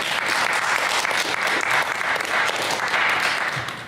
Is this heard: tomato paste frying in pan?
no